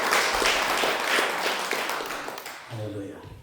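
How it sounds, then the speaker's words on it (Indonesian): An audience at a church retreat session gives dense, sustained applause that fills the room and gradually thins out, with a voice coming in near the end. "Yang percaya beri tepuk tangan dulu bagi Allah yang luar biasa."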